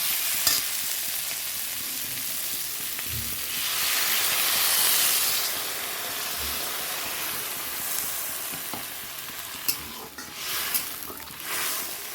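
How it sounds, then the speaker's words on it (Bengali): Spices sizzle and fry loudly in a hot pan, a continuous crackling hiss broken by occasional scrapes and clinks of stirring. "মশলাটা ভাজা হবে গেছে জল দিয়ে দেবো"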